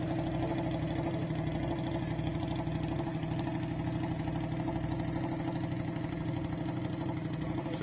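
A KTM hillclimb car's engine idles steadily at a mountain hillclimb event, a continuous low rumbling drone with a slightly uneven beat, moderately loud and constant throughout with no talking.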